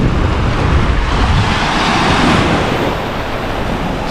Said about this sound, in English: Just gotta time it when the waves come down.